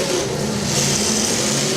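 Demolition derby car number 88-19 revving hard through open exhaust stacks, a loud, steady, rough engine roar holding for under two seconds at an outdoor derby in Portage, Ohio.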